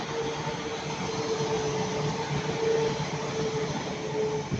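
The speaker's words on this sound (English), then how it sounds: "That's my banger Transport for Wales train." A Transport for Wales Class 197 train rolls past at Ardwick, a loud close rush of wheels and rail noise with a faint sustained tonal whine held throughout.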